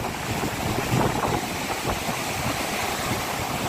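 Churning, rushing water below the gates of Maithon Dam during a cyclone, a steady loud broadband roar with wind buffeting the microphone, continuous throughout with no speech.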